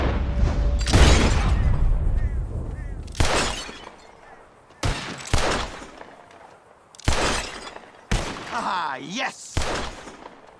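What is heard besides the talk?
gunshots in the video game Red Dead Redemption 2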